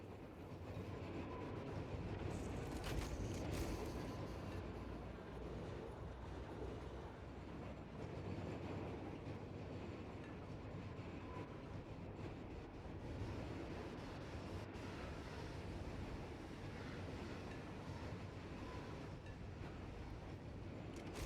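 In the factory-building video game Satisfactory, a train pulls into a station with a sustained rumbling roll and a brief clattering burst near the start, then settles into a long steady mechanical drone at moderate level with no talking.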